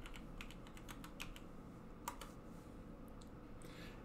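Steady, close typing on a computer keyboard, a quick run of light clicks at an even pace with one slightly louder keystroke midway, no voices.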